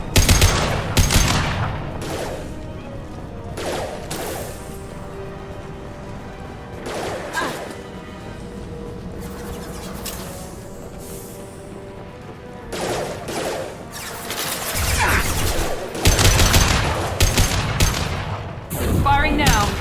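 Gunfire in Mass Effect 2 Legendary Edition, with repeated bursts of shots and impacts spread through the clip, loud and dense near the start and end, mixed with game sounds and some talk.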